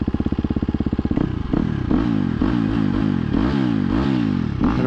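A 2023 KTM 250 XC-F dirt bike in high power mode on the street revs hard and close, its engine pitch repeatedly sweeping up and dropping back after a steady idle-like chug at the start.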